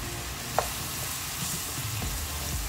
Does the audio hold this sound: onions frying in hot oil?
yes